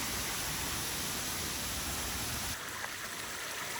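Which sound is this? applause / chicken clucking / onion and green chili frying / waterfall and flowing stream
waterfall and flowing stream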